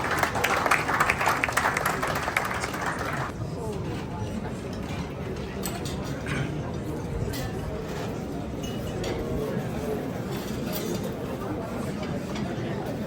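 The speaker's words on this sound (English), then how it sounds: "Shall we welcome them with a big round of applause?" An audience at the Millennium Excellence awards ceremony applauds steadily for about 13 seconds. The clapping is loudest in the first few seconds, then settles into a dense wash mixed with crowd chatter.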